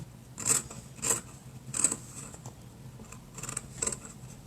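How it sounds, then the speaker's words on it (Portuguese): Scissors snip cloth for a fabric face mask five times in an uneven rhythm, crisp close-up cuts with quiet room sound between them. "Aquele som que a costureira adora, o som da tesoura."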